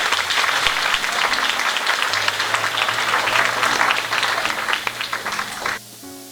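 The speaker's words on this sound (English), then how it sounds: "So let's give Bonnie a round of applause." Applause from a high school class reunion dinner audience, a dense, steady round of clapping from a sizable crowd that tapers and stops near the end.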